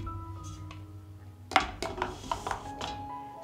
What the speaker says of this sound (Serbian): Na dno šerpe stavljam krpu i unutra ređam tegle.